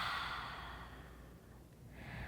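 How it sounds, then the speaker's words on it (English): A single slow, deep exhale of breath, close and airy, fading out and followed by the start of another soft breath, with no talk. "Take a nice deep breath in. And exhale."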